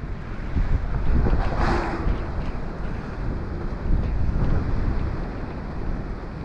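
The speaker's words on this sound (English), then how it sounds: "There's a lot of waves going on in the harbour, inside the seafront area." Rough waves churn inside a seafront harbour in Paphos during a gale, a dense continuous wash of water mixed with heavy wind buffeting on the microphone, loud and steady throughout with no talking.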